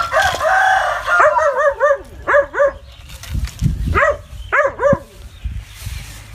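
A dog barks in short, yelping bursts again and again while a monkey has taken its puppy, with rough, noisy commotion and low thumps in between the calls.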